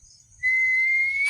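A single sustained whistle note rises out of near silence and holds steady for about a second, loud and clear against a low rumbling background.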